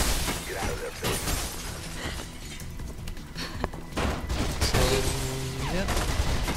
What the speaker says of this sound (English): Hopefully the gunshots are not too loud.